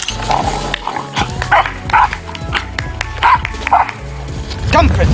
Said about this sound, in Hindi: ऐसे भौंक रहा है जैसे कि ये शेर को आज जिंदा ही नहीं छोड़ेगा।